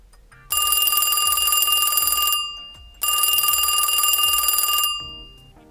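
An old-style telephone bell rings in two long bursts separated by a short pause, loud and close.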